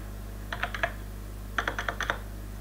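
Someone types a value into a field in FreeCAD on a computer keyboard: two short bursts of four or five crisp, close key clicks separated by a pause, over a quiet room hum.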